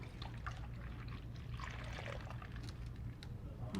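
Ice cream mixture poured from a pitcher into a bag, giving a soft, steady liquid trickle over a low constant hum for the whole stretch.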